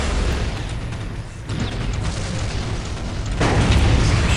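Dense, continuous battlefield gunfire and booming explosions from units fighting in Dawn of War Soulstorm, Steel Legion against Dark Eldar, a loud unbroken roar that swells near the end, with no talking.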